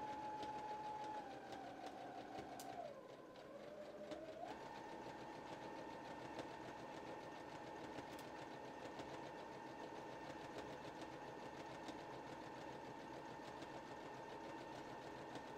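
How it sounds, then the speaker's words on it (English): A sewing machine runs steadily for the whole stretch, stitching a dress seam and backstitching a couple of times to reinforce it, with a brief change in pitch near the start as it reverses, then continues forward evenly. "Then I'm going to go back a couple of times, again, just to keep that reinforced, then forward to get back to that stitching line"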